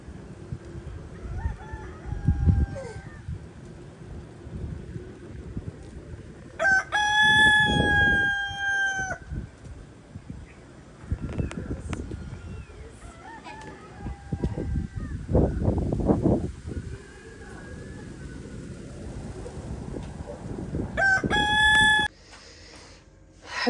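Chickens cluck and squawk through a long stretch of farmyard noise, with a rooster crowing loudly twice, once early on and once near the end, and no voices heard.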